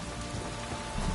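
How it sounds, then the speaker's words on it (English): Steady rain downpour in The Witcher 3: Wild Hunt, a dense continuous hiss of drops pattering on surfaces, even and enveloping with no voices over it. "If it don't stop raining, my arse will rot off. This downpour's a bastard"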